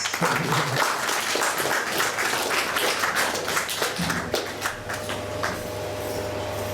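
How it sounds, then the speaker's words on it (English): Applause from a yoga and devotional talk audience, a dense, steady patter of many hands clapping that carries evenly through the whole stretch with a faint low hum underneath. "Give yourselves a round of applause."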